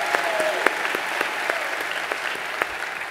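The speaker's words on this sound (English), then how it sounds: "let's give a round of applause for that" A crowd applauds steadily, with individual sharp claps standing out from a dense wash of clapping that holds at an even level from start to finish.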